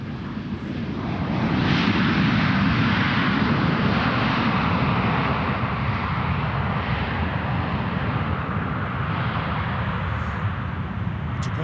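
Airplane arriving at Minneapolis–St. Paul airport: a broad, steady engine roar that swells in the first two seconds and then holds loud and continuous, heard from outdoors with no talking over it.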